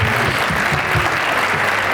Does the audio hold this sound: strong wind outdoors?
no